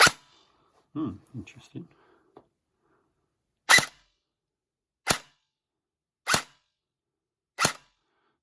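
A Specna Arms 416 airsoft rifle firing on semi-auto: four sharp, separate shots about a second apart, following a brief spoken word and some handling noises.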